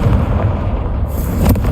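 A Confringo fire spell explodes in the Hogwarts Legacy video game: a loud, close burst with a deep rumbling boom that rolls on and is capped by a sharp pop near the end.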